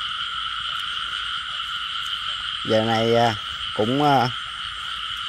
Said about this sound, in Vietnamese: Giờ này mà còn ếch lẻ nữa nè cô chú anh chị